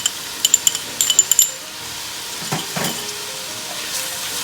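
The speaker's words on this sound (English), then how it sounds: "All these delicious flavors of the onions and the ham sizzling away." Onions and ham sizzle in a pan for ribollita soup, a steady close crackle opened by a quick run of bright metallic clinks, then a couple of soft stirring scrapes.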